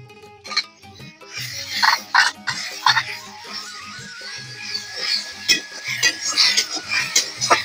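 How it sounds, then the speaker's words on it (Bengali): A ladle scraping and clattering in a pan as spice paste and cumin paste are stirred and fried, irregular close metallic scrapes and knocks over a soft sizzle. "দিয়ে আমি মশলাটা ভালো করে কষিয়ে নেব"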